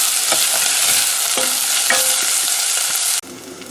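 Onions sizzle steadily in a frying pan for chickpea curry, a dense continuous hiss with a few scrape and stir clicks, loud and close, before the sound drops away near the end.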